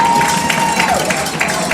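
A homecoming crowd at a high school football game, Marion Wildcats against Collinsville, cheers and applauds in a dense, steady roar late in the fourth quarter, with a sustained whistle-like tone running through the noise.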